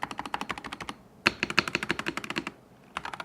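Keystrokes on a mechanical computer keyboard, a steady run of crisp, close clicks in bursts with a brief pause, no talking.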